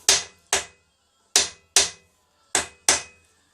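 Metal hammer blows drive a steering head bearing race into the frame of a Triumph Bonneville America: six sharp, ringing strikes in irregular pairs, close and loud with a bright metallic ping, with nobody talking.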